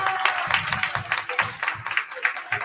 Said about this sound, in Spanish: así que un gran aplauso para ellos